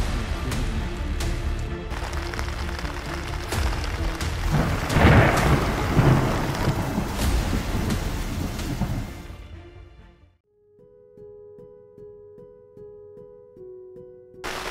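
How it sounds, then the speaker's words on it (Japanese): Heavy pre-dawn rain and rolling thunder at a campsite at Fumotoppara during a downpour, a loud continuous roar that swells and then cuts off, leaving quiet tonal notes. "朝の5時、めちゃくちゃね、雨降ってますね。"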